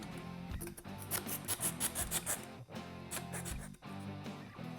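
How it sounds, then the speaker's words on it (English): A hand file rasps against the inside edge of a freshly cut radiator hose during a Ford Roadster radiator hose kit install. The strokes are quick and rhythmic and sound scratchy and close, with no talking. "you want to take a file and get rid of any burrs that are on the inside of the hose"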